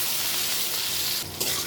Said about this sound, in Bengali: রসুন আর শুটকিটা ভাজা হয়ে আসছে।